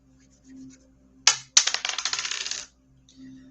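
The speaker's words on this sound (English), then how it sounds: "Going ahead and rolling my dice again" Dice rolling onto a hard surface: a sharp first clatter, then a rapid rattling series of bouncing clicks that settles after about a second, close and distinct against near silence.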